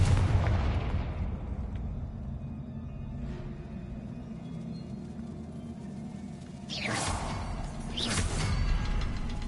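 Confringo spell explosions in the Hogwarts Legacy video game, a low rumbling blast followed by two sharp crackling bursts near the end over a steady background hum.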